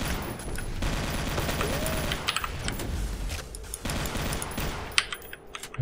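Gunfire in a video game comes as rapid, dense bursts of sharp cracks that stutter unevenly across the scene, loud and close, with short pauses between volleys.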